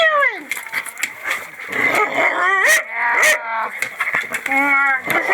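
A puppy growls low and lets out rising, whining whimpers in short bursts, close to the microphone, while a person keeps talking to it throughout.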